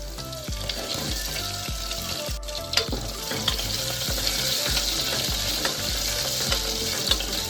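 Ginger-chili paste and raw potato sauté in the tempering of a pressure cooker, with a loud, close sizzle and a regular scrape of stirring repeating about every half second, with no talk.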